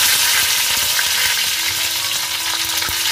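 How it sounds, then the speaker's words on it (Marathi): Chopped garlic frying in hot oil as a tempering for a Konkani-style pomfret dish, a steady dense sizzle with faint crackles throughout, loud and close, no voices. "लसूण एकदम कटिंग करून त्याचे तुकडे बनवून आपण तेलामध्ये आता फोडणी द्यायला सुरुवात करतोय"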